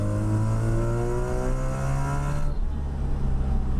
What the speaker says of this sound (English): The rotary sound is really cool.